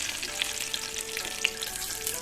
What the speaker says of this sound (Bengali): ততক্ষণে আমার বেগুনটাও ভাজা হয়ে গেল।